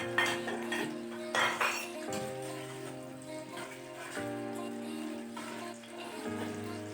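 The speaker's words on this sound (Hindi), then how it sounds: "तो हम इसमें ड्राई फ्रूट को शामिल कर देंगे और उनको थोड़ा सा रोस्ट कर लेंगे।" Dry fruits roasting in ghee in a pan, close metallic clinks and scrapes of a spoon against the pan at irregular intervals, with a faint hum underneath and no talking.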